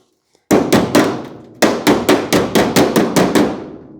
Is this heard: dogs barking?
no